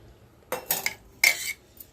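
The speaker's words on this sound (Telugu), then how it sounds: "ఇప్పుడు ఇందులో కలిపేసుకుందాము." A spoon scrapes and clinks against a pot while stirring an amla pickle mixture, with two distinct bursts of metallic clatter and a faint tap at the end, close and fairly quiet.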